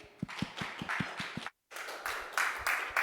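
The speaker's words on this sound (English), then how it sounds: "Please welcome Vincenzo with amazing applause." Audience applause welcomes a speaker at a talk, a dense, steady wash of many hands clapping that cuts out briefly midway before resuming just as strongly.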